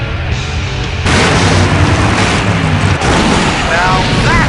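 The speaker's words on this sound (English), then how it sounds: "Now that's an explosion" A big finale explosion in the Full Throttle PC adventure game: a loud, sustained rumbling boom that swells about a second in and keeps roaring with crackling debris to the end.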